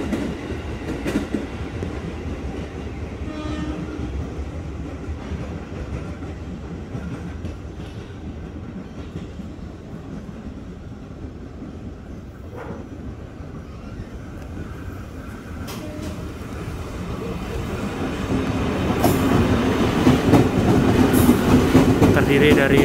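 A KRL commuter train, a Tokyu 8000 series unit, rumbles past with steady wheel clatter and rail noise that swells louder toward the end; faint voices and station sounds sit underneath.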